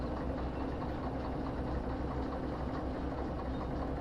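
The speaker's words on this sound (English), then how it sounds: "With the train idling like this, they don't hear the train coming." A train locomotive idles in a rail yard in Derail Valley, a low, even engine rumble with a faint knocking pulse. It stays quiet and steady throughout, with no voices.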